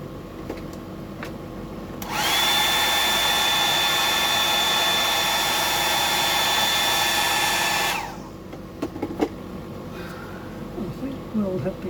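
A hair dryer blows steadily on fresh silver paint on a whiting fishing lure, switching on loudly near the mic, running as a constant whooshing roar for about six seconds, then cutting off to quiet room sounds.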